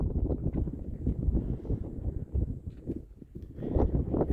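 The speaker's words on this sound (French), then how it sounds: "Ah, il y a beaucoup de vent, hein." Strong wind on a mountain road in the Sierra Alhamilla, Andalusia, buffets the microphone in heavy, low rumbling gusts that rise and fall irregularly, loud and close throughout.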